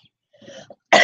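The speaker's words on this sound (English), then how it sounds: "I'm coughing" A woman coughs once, a sharp loud burst near the end, preceded by a few faint soft sounds.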